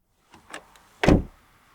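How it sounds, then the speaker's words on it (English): A Volvo car door swings shut with a solid, deep thud after a few light clicks and rustles of handling, close and alone. "As you'd expect from a Volvo, the doors give a very solid sound when closed."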